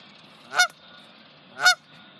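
A goose standing its ground gives two loud, harsh honks about a second apart, close by and clear against a quiet outdoor background.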